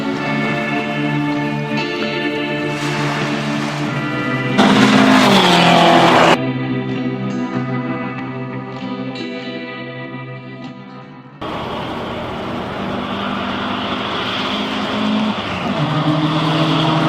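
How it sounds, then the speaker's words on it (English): Porsche 914 rally car running hard on a historic rally through Mexico, engine droning loud and steady with harmonic tones, shifting pitch and surging through gear changes, with brief roaring bursts of wind and road noise. "The new fuel pump and carburetor adjustments have the Porsche 914 running perfectly"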